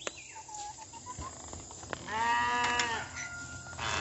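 A wavering, drawn-out bleat from a lamb rises over a steady outdoor hum on a farm, after a fainter higher cry earlier on.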